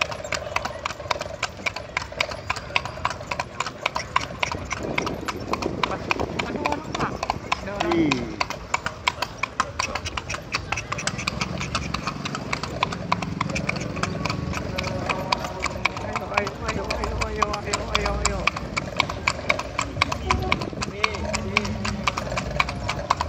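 Horse hooves clip-clop in a steady rhythm as a horse pulls a bendi cart through Padang streets, mixed with wheel rumble and passing traffic, while people talk throughout.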